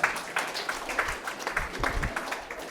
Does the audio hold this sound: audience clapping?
yes